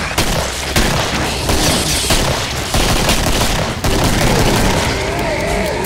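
Hand cannon shots crack out amid dense, loud gunfire and booming in the Killing Floor video game, one rapid burst after another over a continuous roar of combat noise.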